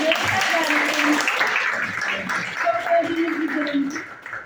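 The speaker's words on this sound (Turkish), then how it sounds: "Ben Bahar Hanım'a kocaman bir alkış istiyorum" An audience at a women's community gathering claps for an honoree, moderately loud and steady, with voices and some talk mixed in over the applause.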